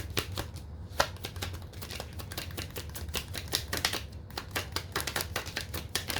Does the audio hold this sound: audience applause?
no